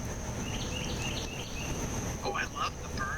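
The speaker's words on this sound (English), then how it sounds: "I love the bird noises." Birds calling outdoors after light rain, short chirps and twittering phrases scattered over a steady hiss of insects and ambient noise.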